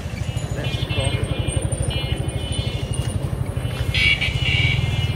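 Motorbike engine idling and pulling away in a city street, a steady close putter with rhythmic low chugging, traffic clatter and a brief horn-like tone near the end.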